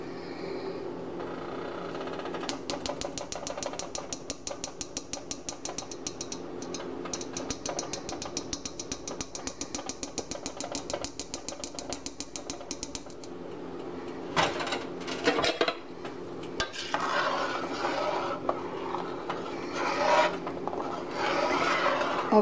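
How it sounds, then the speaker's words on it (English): All-purpose flour is sifted for a crawfish bisque with a rapid, regular rasping rattle from the sifter for about ten seconds. Irregular rubbing and scraping follow, close and moderately loud, with no voices. "I'm just sifting in some all-purpose flour"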